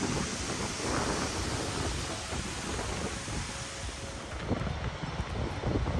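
Skogafoss waterfall thunders as a steady, powerful, broadband roar that fills the whole stretch without pause, with faint wind buffeting the microphone.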